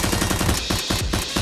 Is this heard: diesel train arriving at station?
no